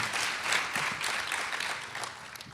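Audience applause at a memorial service for Dr. Dorothy Height, a steady wash of many hands clapping at moderate distance, fairly even throughout and slowly thinning toward the end, with no voices over it.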